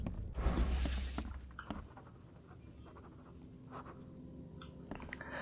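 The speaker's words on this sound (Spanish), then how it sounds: "¿En serio suena así cuando escribe en el aire con su boli mágico?" Magic pen scratching and swishing as it writes in the air in The Sinking City, a brief loud burst of scratchy strokes followed by softer intermittent scraping and faint ticks.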